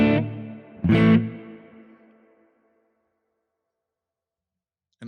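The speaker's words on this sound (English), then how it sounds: "Now the pre-delay all the way to the left," Electric guitar through a Strymon BigSky reverb pedal with pre-delay at minimum: two strummed chords, the second louder, each followed at once by a smooth reverb tail fading out over about two seconds, then a brief new attack at the very end.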